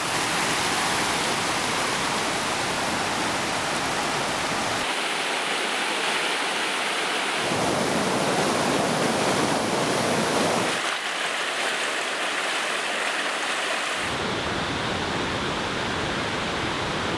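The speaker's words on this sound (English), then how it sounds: "The road has literally turned into a river." Loud, steady roar of a rushing river flooding over a trail-road in pouring rain in the mountains of Georgia, a dense broadband wash that swells and dips in sections but never stops, with no voices.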